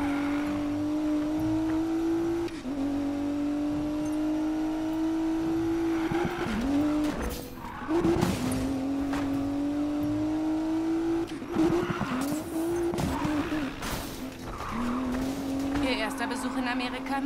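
Fast car driving in Need for Speed Payback, a steady high engine drone with repeated tire squeals and skids, while people talk over it in German.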